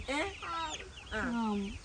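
Chickens cluck nearby in two drawn-out, quavering bursts separated by a short pause, fairly loud and without talk.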